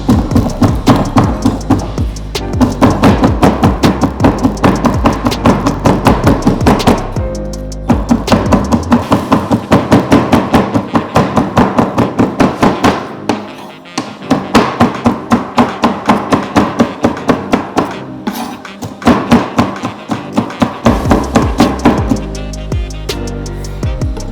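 A knife chops salad vegetables on a cutting board in fast, even runs of close, loud taps, with a few short pauses between bursts.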